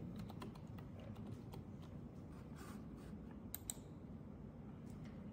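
A name is typed on a computer keyboard during Windows 11 first-time setup, a quiet run of quick, uneven key clicks close by, with a couple of sharper taps near the end and no talk.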